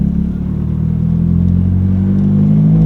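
A 1997 Honda Civic coupe with a 5-speed and a loud performance header-back exhaust revs steadily, a deep droning engine note building slightly in intensity, close and loud with no talking.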